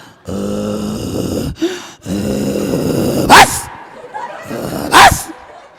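During a comedy act, a voice imitates a dog, giving rough growly barks in two long stretches, then two short sharp yelps.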